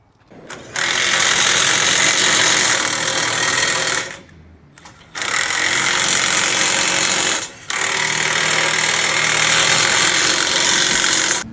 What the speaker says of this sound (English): use when you tighten the torque manager bolts